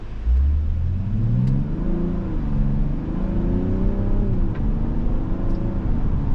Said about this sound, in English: when you step on the gas and give it some juice, it is going to shift down and take off no problem